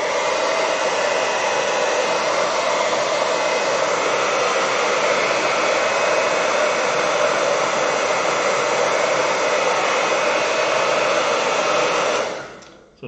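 Hair dryer blasting steadily and loudly while drying a watercolor tree painting, a constant close whooshing roar that holds unchanged for about twelve seconds before switching off and winding down.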